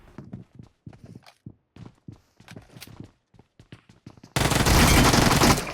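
Uzi fire in PUBG Mobile: after a run of scattered short taps and thuds, a loud, sustained burst of rapid automatic shots breaks in and dominates the final second and a half.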